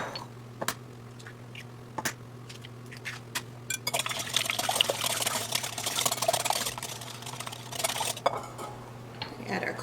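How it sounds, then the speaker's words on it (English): Eggs beaten in a bowl for a brown sugar pie, a steady busy whisking and clinking from about four seconds on, close by, after some earlier scattered kitchen clatter. "now we're going to beat our eggs up."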